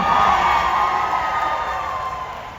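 Crowd at a Supernatural fan convention cheering and whooping loudly and continuously, a dense roar that slowly fades.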